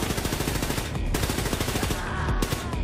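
Wolfenstein 2 gunfire rattles in a dense, continuous automatic stream, loud and close, with no pauses across the short burst.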